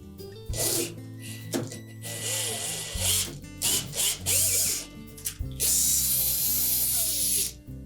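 A steel mounting bolt is turned to cut threads into the unthreaded roller mounting hole of a Whirlpool refrigerator, giving close, repeated ratcheting clicks and metallic scraping in bursts, with brief pauses between turns.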